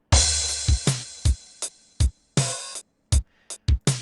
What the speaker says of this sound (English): So that was open hi-hat.